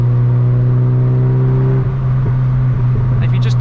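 Mazda MX-5 MK2 engine in third gear, a loud steady hum up close that shifts tone midway and turns rougher, with faint higher chirps near the end.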